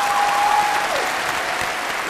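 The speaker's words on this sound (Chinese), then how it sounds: "鼓掌吧。" Studio audience applause on a TV dating show, a dense, continuous wash of clapping that stays steady and fairly loud with no talk.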